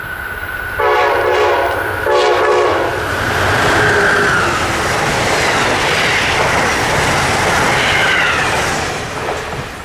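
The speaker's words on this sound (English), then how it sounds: "Mere minutes later, Amtrak Regional 171 flies south on its way to Roanoke," Southbound Amtrak Northeast Regional 171 sounds two short horn blasts, then roars past close and loud, its wheels clattering in a steady rush that fades only slightly.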